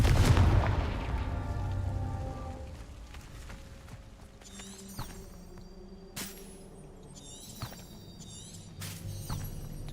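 Confringo blasting spell cast in the video game Hogwarts Legacy: a loud fiery boom at the start fades into a rumbling tail, followed by sharper crackling bursts and bright shimmering hits.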